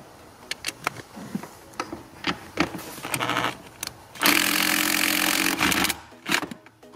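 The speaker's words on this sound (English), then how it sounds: "we'll use the impact, okay, to remove this one now" On a Dodge Journey, an impact wrench spins off a 13 mm nut from the throttle position sensor and gas pedal area. It sounds like a loud, close burst of buzzing rattle lasting a couple of seconds, after some scattered clicks and handling noises.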